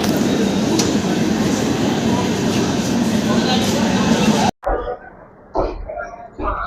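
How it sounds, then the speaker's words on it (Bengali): A passenger train at Malda Town station gives a steady, loud rolling rumble for several seconds, then the sound cuts off abruptly to quieter scattered noises. "প্রায় 10 মিনিট অপেক্ষা করার পর আমাদের ট্রেন ছেড়ে দিল মালদা টাউন।"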